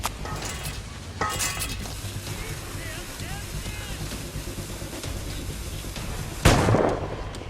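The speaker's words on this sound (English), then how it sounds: "Grenade!" A grenade bursts in Assassin's Creed Rogue, a sharp loud blast near the end over a busy backdrop of rumbling ambience, clatter and distant shouting voices.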